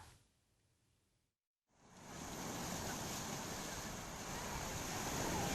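Floodwater of an overflowing river after heavy rain roars as a dense, steady rush that starts after a brief quiet gap and then stays loud and continuous.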